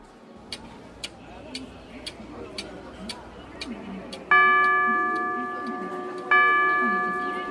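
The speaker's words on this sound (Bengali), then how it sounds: "ঘড়িতে টিকটিক করে 8টা বাজল।" A clock ticks steadily in a quiet room, each tick sharp and evenly spaced, then a ringing chime strikes twice, sustaining and fading.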